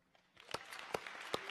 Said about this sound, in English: Just give the Lord an applause.